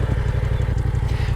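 Yamaha R7 650cc parallel-twin sport motorcycle with a full Yoshimura exhaust system idling, a low, lumpy, rapid pulsing burble that stays steady and close for a brief moment.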